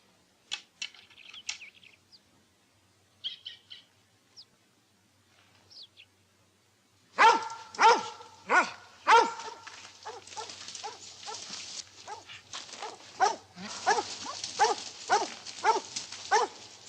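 A few faint clicks and distant yaps at first, then several dogs bark loudly and repeatedly close by, an overlapping excited chorus.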